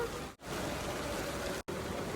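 Heavy rain pours steadily on a mango orchard, a dense, continuous hiss with two brief dropouts, loud and close, with no voices over it.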